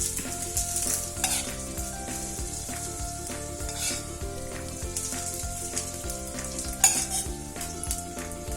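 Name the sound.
hot oil with mustard seeds poured over dhokla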